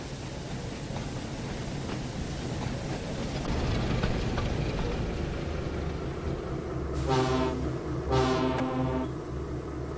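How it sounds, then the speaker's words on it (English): A diesel locomotive backs into a yard with a train of freight cars, rumbling steadily with a low engine drone, then two short horn blasts sound near the end over the continuous rolling noise. "Suddenly, Diesel backed into the yard with a train of freight cars."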